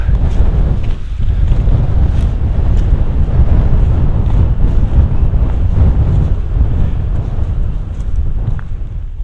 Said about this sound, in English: it is chilly and extremely windy right now